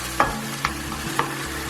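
Ginger and garlic paste frying in a pan for chicken tikka masala, a constant sizzle broken by three quick scraping stirs of a utensil, close and fairly loud.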